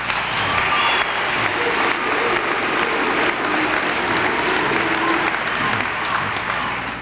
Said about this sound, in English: a moment ago, you scared me when you started yelling for Coop